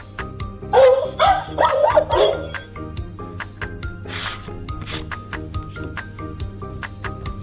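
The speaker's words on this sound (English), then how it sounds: "Dog." A dog barks in a quick run of several yips and woofs near the start, loud and close, followed by quieter scattered sounds.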